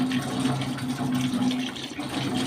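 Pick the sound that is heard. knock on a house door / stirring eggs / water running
water running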